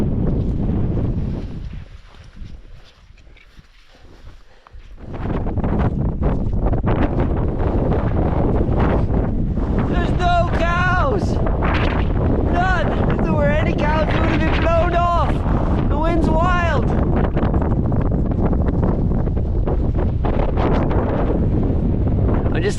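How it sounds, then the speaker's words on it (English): Strong gusty wind with rain buffets the microphone near a mountain summit, a loud continuous roar that dips briefly before building again, with people talking over it. "We've just been in the face of the wind and the rain."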